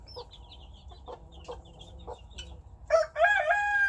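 Chickens on a Texas farm, a broody hen with her chicks including a silkie, give soft scattered clucks and peeps at close range, then a louder squawking cackle rises near the end.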